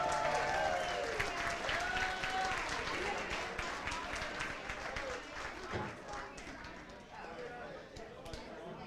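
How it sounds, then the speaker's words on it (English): An audience at a boxing event in Millvale applauds in a sustained burst of clapping that slowly fades, with a person talking over the noise throughout. "Give a round of applause"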